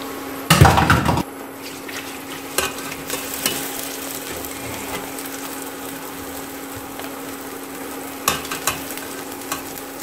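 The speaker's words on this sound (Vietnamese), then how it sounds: "Cho to một chút để cái hành này nó thơm lên nhé" Shallots stir-fried in a pan for braised soy-sauce pork belly: a loud burst of sizzling and scraping early on, then a steady low frying hiss with occasional utensil clacks and stirring bursts.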